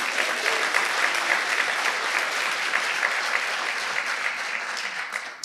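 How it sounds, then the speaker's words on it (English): An audience at a civic ceremony gives a sustained round of applause, dense and even clapping from many hands that holds steady for several seconds before tapering off. "One more round of applause."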